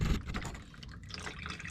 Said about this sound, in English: There's the oil draining out.